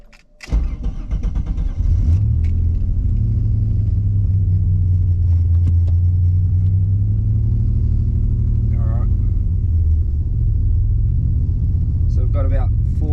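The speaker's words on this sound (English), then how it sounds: "we're gonna do hopefully its first wide open throttle." VN V6 turbo car engine at wide open throttle, a loud sustained close rumble with rising and falling pitch, sharp clicks at the start and a brief voice near the end.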